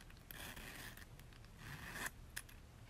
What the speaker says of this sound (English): And then the zip pull.